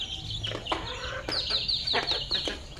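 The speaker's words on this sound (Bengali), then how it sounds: "সকালে মুরগির ডাক" Village chickens cluck in the morning, a steady run of short, close clucks and squawks repeating over a constant rural background.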